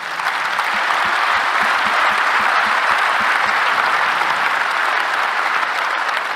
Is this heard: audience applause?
yes